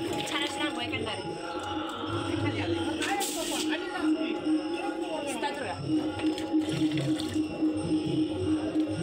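Water is splashed by hand onto the ground to prepare it for drawing rangoli, giving repeated wet slaps and trickles that run over steady background noise, with a brief louder splash near the middle.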